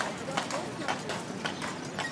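Horse hooves clip-clop in a steady, faint rhythm of repeated knocks during a family horse ride, with low background voices.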